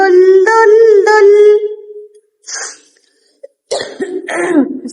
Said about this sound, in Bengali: সরি, এত কাশি হয়েছে বলার মতো না।